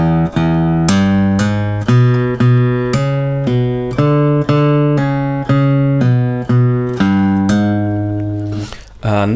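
Fingerstyle guitar riff played with hammer-ons and pull-offs, plucked notes ringing in a steady repeating pattern of about fifteen attacks, close and clear with no talking.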